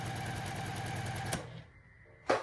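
A sewing machine runs steadily and close while piecing a quilt block, a fast rhythmic whir that stops partway, followed by a low hum and a brief knock.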